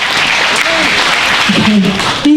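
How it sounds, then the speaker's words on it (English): An audience at an elementary school musical play applauds the children's choir, clapping under an amplified voice at a school stage event. "a big round of applause"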